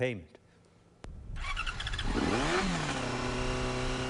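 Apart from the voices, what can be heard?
Yamaha motorcycle engine roaring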